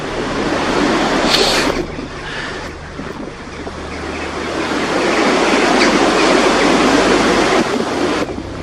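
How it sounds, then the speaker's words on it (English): High wind roaring through the trees of a graveyard in Haworth, a loud, steady broadband rush that swells and eases in gusts with no talking, close and dominant throughout. "I keep looking up at these trees and listening to the wind"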